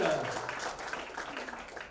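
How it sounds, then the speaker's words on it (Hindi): Audience clapping at a live concert, a brisk patter of many hands at moderate distance, continuing steadily throughout. "डेविड रॉय का तालियों के साथ अभिनंदन कीजिए"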